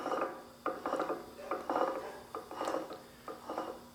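A rebuilt double swivel bevel gearbox turns by hand, giving repeated short bursts of gritty, ratcheting gear clatter in an uneven rhythm, close and fairly quiet.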